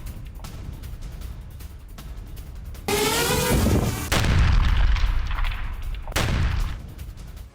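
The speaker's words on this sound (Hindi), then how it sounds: "वोल्नोवका में रूसी सेना की एयर स्ट्राइक, जी हां, फैब 500 ग्लाइड बम से रूस ने यह हमला किया है।" A Russian FAB-500 glide bomb air strike on Volnovakha: a loud, close blast roars up suddenly, followed by rumbling and debris noise, with another heavy impact burst near the end.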